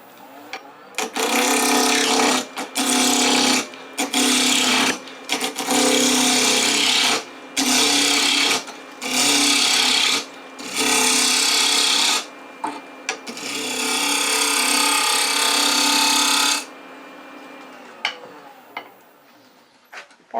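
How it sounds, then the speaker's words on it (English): A spindle roughing gouge cuts a square wooden blank round on a spinning lathe, a loud close rasping chatter in repeated bursts separated by brief pauses, then a longer steady cut that fades as the lathe winds down. "This is a much more typical task for spindle roughing gouge, taking a square down to round of something"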